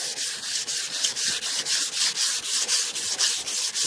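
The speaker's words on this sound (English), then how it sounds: "Let's take the time and sand it down like this here." Hand sanding on the body of a 1988 Cadillac DeVille, with steady rapid back-and-forth abrasive strokes, loud and close, with no voices.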